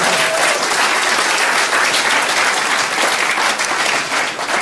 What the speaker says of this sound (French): un gros tonnerre d'applaudissements à Charles qui s'est quasi pas trompé